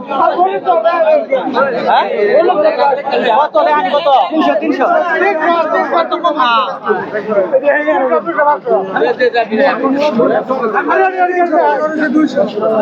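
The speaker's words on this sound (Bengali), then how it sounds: "দর্শক এখানে গরু দেখার জন্য উপচে পড়া ভিড় রয়েছে" Dense crowd chatter at a busy cattle market, with many voices talking at once close by, loud and continuous throughout.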